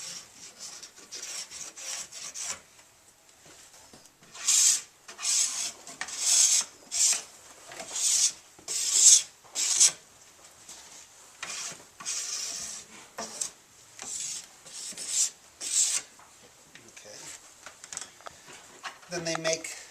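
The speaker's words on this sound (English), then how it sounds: "I kind of just take the edge of the scraper, get some of the wax off the side of the ski here." Plastic scraper rasping glide wax off the edge of a cross-country ski, repeated short scraping strokes in an uneven rhythm, close and fairly loud, with a brief voice near the end.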